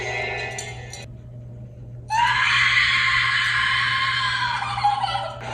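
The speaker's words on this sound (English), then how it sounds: "That was a great scream." A woman screams in the 2022 horror film X: a long, loud, piercing shriek held for several seconds after a brief earlier cry, with a steady low hum beneath.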